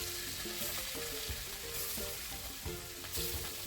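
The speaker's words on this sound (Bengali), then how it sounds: "তেল দিয়ে ভালো করে মাছগুলো ভেজে নেবে।" Pieces of katla fish fry in oil in a wok, giving a continuous close sizzle and crackle with some stirring, fairly quiet and without talk.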